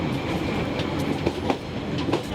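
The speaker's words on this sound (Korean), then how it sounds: "덜컹거리며 느리게 가는 기차에 몸을 씻자" Old train at the Gokseong rose festival rattling slowly along the tracks, a steady close rumble with repeated wheel clicks and clacks, no voices heard.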